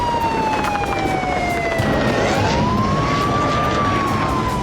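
Emergency sirens wail across a city after drone strikes in Russia, two overlapping tones sweeping slowly down and back up, steady and fairly loud against a constant urban rumble.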